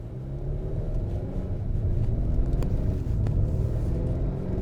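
A 2021 Acura TLX A-Spec cruising on the road, heard as a steady low engine and tyre rumble with road noise from inside the cabin, continuous and fairly loud, with no talking.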